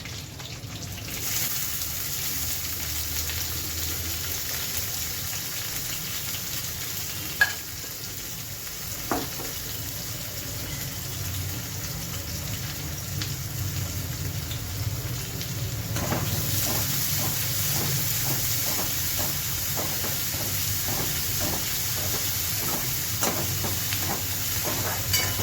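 Chopped onion goes into a pan where garlic and chillies are already frying in oil for a Maharashtrian mixed cowpea and okra bhaji. A steady close sizzle runs throughout and swells after the onion drops in, with a few stirring clicks and no talk.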